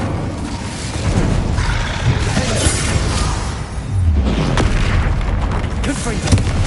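An Incendio fire spell is cast in Hogwarts Legacy, bursting into loud booming whooshes and rumbling fiery blasts that swell twice over the clip.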